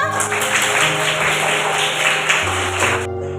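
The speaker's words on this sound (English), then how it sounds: "Clapping for Manya" A class of young students clapping for a classmate during an online science revision lesson, steady brisk clapping heard over a sustained electronic tone that cuts off at the end.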